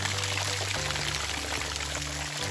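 Steady, full rush of an off-trail waterfall pouring over rocks on a cool December day, a constant broadband wash heard close and unbroken throughout.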